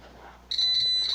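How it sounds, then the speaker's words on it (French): A proximity alarm sounds as someone approaches, starting abruptly with a loud, steady high-pitched electronic beep that holds on after a short quiet lead-in. "Quand je m'approche, l'alarme fait le bruit et vous pouvez voir que il fait le bruit et il allume une lumière."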